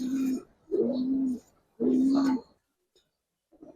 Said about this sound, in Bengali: এখন ডাকে কি সুন্দর দেখে।